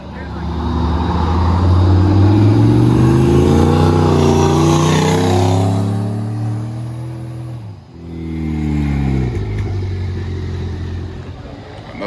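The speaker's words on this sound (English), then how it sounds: "Another single turbo E92." A single-turbo BMW 335i E92 pulls hard. Its engine note climbs loudly for several seconds, dips briefly at a gear change, then builds again, with voices faint inside the car.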